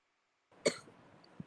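A single sharp cough bursts out after a moment of quiet, followed by faint rustling and a soft thud near the end.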